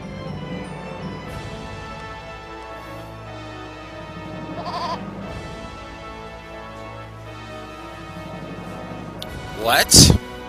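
Goats bleat in the video game Eternal Sonata over steady game music with voices, and a sharp, loud burst of sound comes near the end.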